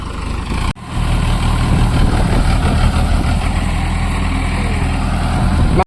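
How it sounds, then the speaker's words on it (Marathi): A steady, loud tractor engine rumble runs throughout, heavy and low, as it levels a field nearby, after a brief dip near the start. "ट्रॅक्टर आलाय, चालू झालंय काम."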